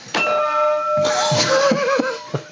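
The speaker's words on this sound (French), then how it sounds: "Ah, c'est la cloche." A bell rings out in a room during a whisky tasting, one clear struck tone whose ringing harmonics hang and slowly fade, with a few brief knocks and voice sounds mixed in.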